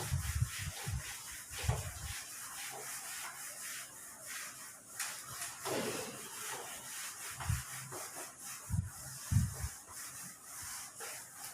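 Rubbing strokes from a duster erasing a board during a maths lesson come in short, scratchy bursts with pauses in between. Fairly close, with no talk.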